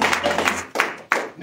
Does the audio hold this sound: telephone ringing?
no